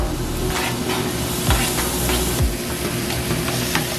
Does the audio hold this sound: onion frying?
yes